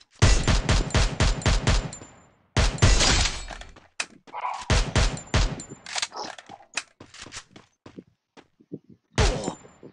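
Video game gunfire rattles in rapid automatic bursts, loud and close, pausing briefly before more volleys and scattered single shots, with little talk.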